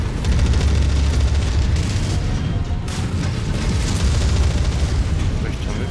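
Heavy weapon fire and explosions from battling mechs in MechWarrior 5: Mercenaries, forming a dense, loud, continuous roar of blasts and booms with no break.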